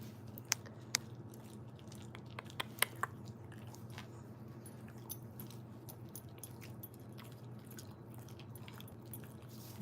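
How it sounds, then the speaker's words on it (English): A person chewing close into a microphone, making soft wet clicks and occasional sharper crunchy bites over a steady low room hum, with no talk. "Bro, you're really chewing on this."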